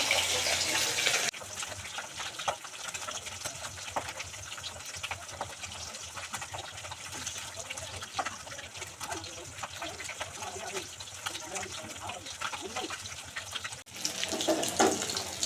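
Steady rush of water running from a tap, continuous and fairly close, with brief louder bursts at the start and end.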